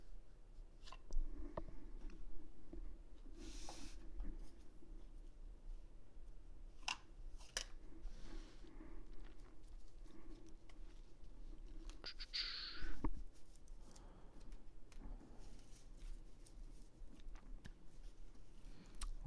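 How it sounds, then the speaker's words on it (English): A deck of Magic: The Gathering cards is shuffled by hand: soft, scattered clicks and taps with a couple of brief riffling bursts, quiet and close in an otherwise hushed room. "I'll just shuffle my deck in the meantime."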